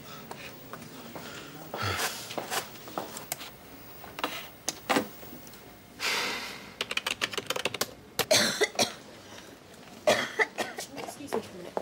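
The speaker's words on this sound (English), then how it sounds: "When did your coughing start?" A woman coughs repeatedly in a hospital ward in the TV medical drama Holby City, with sharp bursts spread across the scene amid keyboard typing and people talking.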